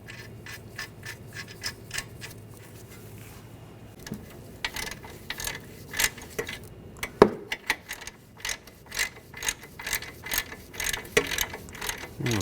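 Ratchet wrench tightening the outer tie rod nut on a 2013-2019 Ford Escape, a quick run of close, crisp clicks that grows busier and louder toward the end, with no talk.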